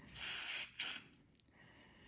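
Two short hissing bursts of aerosol carburetor cleaner sprayed into a snowblower that won't start, close and fairly loud, the first longer than the second, followed by quiet.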